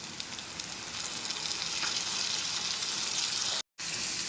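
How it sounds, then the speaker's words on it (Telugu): Chopped onions and tomato frying in a pan for egg curry, a steady close sizzle that continues evenly, broken by one brief dropout near the end. "ఇప్పుడు వీటిని దోరగా వేపుకుందాం"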